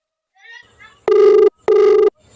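Two loud electronic telephone ring bursts about half a second apart come after brief faint background sounds, with no talk over the rings.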